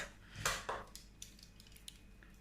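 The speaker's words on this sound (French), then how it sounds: "Je le coupe en rondelles, ça va quand même mieux à mixer après." A knife slices a very soft, overripe banana into rounds on a board for oat pancakes. A few quiet, close cutting taps and clicks come in a loose sequence, softening toward the end.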